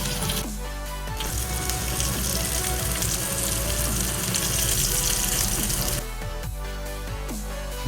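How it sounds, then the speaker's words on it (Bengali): Katla fish pieces frying in oil in a pan, a loud, continuous sizzle that swells after the first second and settles a little near the end, with music playing underneath. "এবার মাছগুলো ভেজে নেবেন।"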